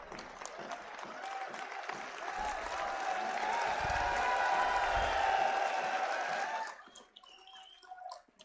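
An audience at a political gathering with a governor and politicians claps, a dense, sustained round of applause that swells for several seconds, then dies away abruptly, leaving scattered faint sounds.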